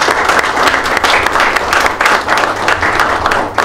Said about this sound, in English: I think that you deserve a round of applause